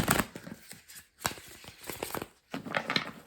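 Tarot cards being shuffled in quick riffling bursts, crisp papery flutters separated by short pauses, close and fairly loud.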